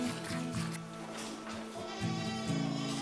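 Goats bleat several times in quick succession on a highland goat farm, close and fairly loud, the wavering calls overlapping one another.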